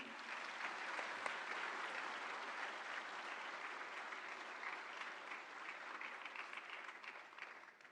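An audience at a formal Indian government event with the Prime Minister on stage applauds warmly, a dense steady wash of many hands clapping that carries on for the whole stretch, slightly distant and gradually thinning toward the end.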